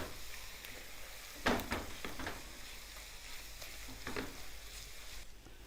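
Softened onions stirred together with two tablespoons of flour in a pan with the flame switched off, a faint steady sizzle under a few scraping stir strokes, with no voices.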